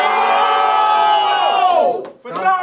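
Crowd at a rap battle event, loud and close, yelling and cheering in a sustained roar with whoops that tapers off, then another burst of shouting starts.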